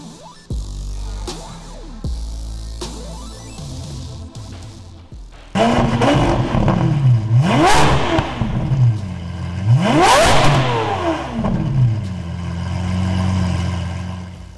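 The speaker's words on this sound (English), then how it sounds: "The customer has requested that these be transformed with the addition of pops and bangs on the overrun," Remapped Lamborghini Aventador SV revving hard, with repeated rising and falling throttle blips and crackling overrun pops, loud and close after a quieter idle opening.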